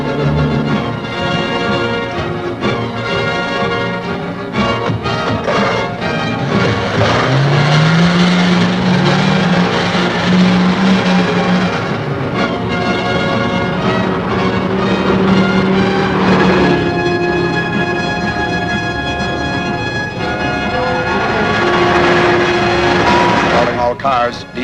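Car engine driving at speed in a 1949 serial chase, a loud, continuous drone with revving and shifting pitch, under radio voices and dramatic music.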